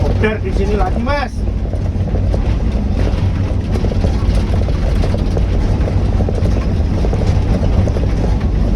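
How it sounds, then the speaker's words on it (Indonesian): Steady loud engine drone with rotor-like rumble throughout, a helicopter flying overhead in a mountain area, with brief talk near the start. "Helikopter di sini lagi"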